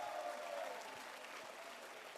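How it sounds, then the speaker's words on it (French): An audience at a gala show applauds the brass band, a steady, fairly distant patter of clapping that continues evenly throughout. "On applaudit la fanfare encore une fois"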